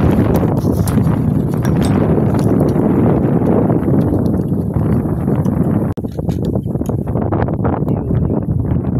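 Strong wind buffets the microphone with a constant loud rumble and gusty roar, no voices heard.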